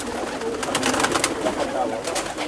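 Pigeons cooing in a loft, soft repeated coos close by over a steady background murmur, with faint voices in the distance.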